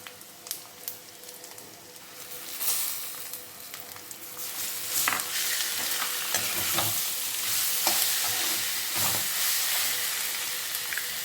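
Grated raw mango hits hot oil tinted with turmeric for mango rice, a steady broadband sizzle that swells after a few seconds and keeps crackling, with occasional stirring scrapes over the frying.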